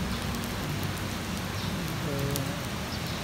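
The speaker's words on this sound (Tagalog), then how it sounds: "Listen to the sound of rain, the relaxing sounds ng ulan" Steady rain falling outdoors during a walk, a dense continuous hiss of drops on surfaces, with a brief faint tonal sound partway through.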